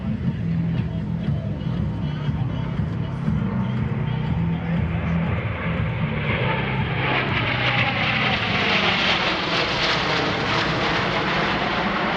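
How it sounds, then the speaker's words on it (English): A C-17 Globemaster III military transport jet passes at the Arctic Lightning Airshow, a broad engine roar whose pitch sweeps downward as it goes by, with an announcer and crowd murmur underneath. "the C-17 is now approaching from your right. Note how quiet it is passing show center."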